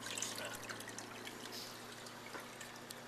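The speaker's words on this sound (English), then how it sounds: "The water going in and out of my condenser." Cooling water runs through a distillation condenser with a faint, steady trickle and gurgle, a low continuous flow with small drips and no voices.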